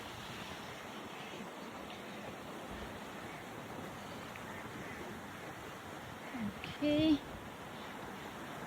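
A stream runs along a canal beside houses and a footpath in Cornwall, a steady broadband wash close to the microphone with light wind, and a short voice cuts in near the end.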